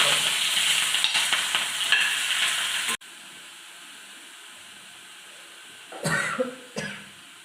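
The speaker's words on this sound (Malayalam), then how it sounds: "കടുക് പൊട്ടി വരുമ്പോൾ ഇതിൻ്റെ അകത്തേക്ക് സവാളയും പച്ചമുളകും ഇട്ട് കൊടുക്കാം." Onion and green chillies dropped into hot oil with spluttering mustard seeds, a close crackling sizzle that settles into a low hiss, followed by a couple of stirring clatters.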